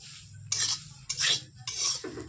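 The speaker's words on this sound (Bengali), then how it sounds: "এবার আমি এটার মধ্যে দিয়ে দেবো তিলটা ভালো করে ভেজে নেব।" Black sesame seeds roasting in a wok, three distinct bursts of stirring and scraping with a soft sizzle between them, close and fairly quiet.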